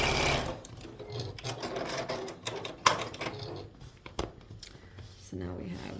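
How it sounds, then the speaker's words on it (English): A sewing machine stitches quilt pieces for a snowman block, skates and body, running in quick bursts with pauses and fabric handling clicks, while someone talks over it. "so now we're sewing the skates and the snowman body"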